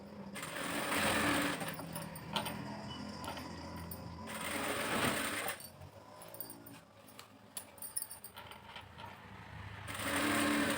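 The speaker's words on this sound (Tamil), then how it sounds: "மேல் தையல் அடிக்க போகிறோம்." A sewing machine top-stitching a fabric lining piece for patchwork, running in loud sustained bursts of rapid needle chatter, broken by quieter stretches of handling and clicks, then starting up again.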